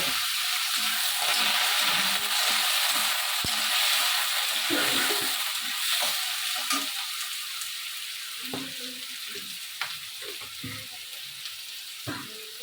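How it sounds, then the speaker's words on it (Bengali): Onions frying in hot oil with a tempering of bay leaf and cumin until reddish, for a duck curry: a steady, close, loud sizzle that eases slightly toward the end, with occasional stirring scrapes and no talking. "এরপরে দিয়ে দিব পেঁয়াজ। পেঁয়াজটা লাল লাল করে ভেজে"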